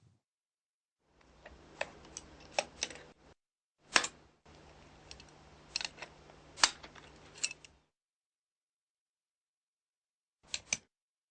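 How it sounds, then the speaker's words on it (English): A side cutter snips a Cortool loose from a pipe clamp, giving sharp isolated clicks and snips in a few short bursts, with a final pair of cuts after a pause, close and otherwise quiet. "the Cortool is swung over and cut loose with the side cutter"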